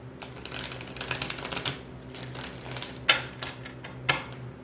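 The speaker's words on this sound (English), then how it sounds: "Let's shuffle." Tarot cards shuffled by hand, a steady run of quick crisp papery flicks followed by a pause and two sharper slaps of the deck, close and moderately loud.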